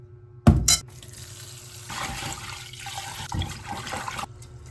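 One cup of rice being rinsed in water before cooking, with a sharp splash and clatter near the start followed by continuous swishing and running water, close and moderately loud.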